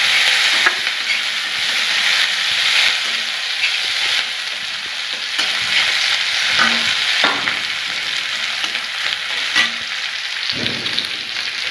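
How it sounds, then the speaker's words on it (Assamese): Green chilies, one whole raw and two cut, fry in a pan of hot oil, giving a steady loud sizzle with a few stirring scrapes and clicks throughout. "অলপ ভাজি ল'ম।"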